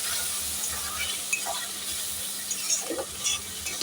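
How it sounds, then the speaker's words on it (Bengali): Chicken frying in a pan with a ground paste of ginger, garlic, tomato and green chilli, giving a steady close sizzle with scattered stirring scrapes throughout and no talking. "এই সময় আমি বাটা মশলাটা যেটা বললাম, আদা, রসুন আর একটু টমেটো আর কাঁচা লঙ্কাটা বাটাটা দিয়ে দেবো। দিয়ে ভালো করে কষাবো"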